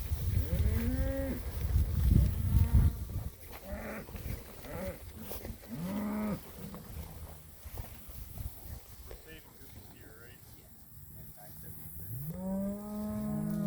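Several grass-fed cattle in a cow mob low and moo repeatedly, deep drawn-out calls near and farther off, overlapping with a man's speech and light outdoor noise.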